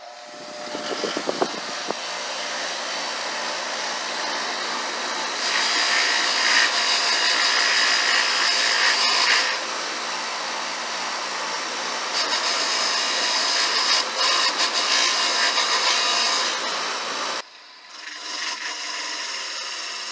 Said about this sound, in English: I'm just going to be using a wire wheel to clean off the nuts on here, clean off the debris and the rust and whatnot